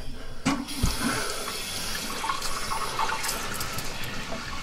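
Water runs steadily through a newly installed Bio Bidet BB-2000 supply line as the valve is opened for a leak test, a continuous close hiss with a brief splash near the start.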